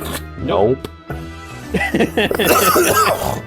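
A sick person coughs once, close and sharp, then speech follows.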